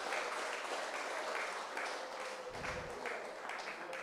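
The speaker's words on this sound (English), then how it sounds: "Please give a round of applause to Mr." An audience at a town hall at St. Patrick's Anglican School applauds as a panelist walks in, a steady wash of moderate clapping from a room-filling crowd with a brief low thump partway through.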